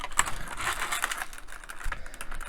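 Small screws rattling and clicking as they come out of a plastic bag during a Fanhome Iron Man model build, with a few quick, close, light metallic taps and crinkles over about two seconds.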